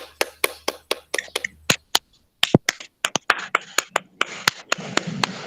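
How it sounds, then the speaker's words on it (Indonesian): A classroom group clapping hands in sharp, spaced, uneven claps, close and crisp, pausing briefly before a denser burst of overlapping applause swells toward the end. "Tepuk tangan untuk kita semua dulu."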